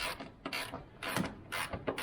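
A spanner or ratchet clicks in short repeated bursts while undoing an air-conditioning pipe fitting in the engine bay of a Kia Picanto, close and fairly loud with metallic ratcheting.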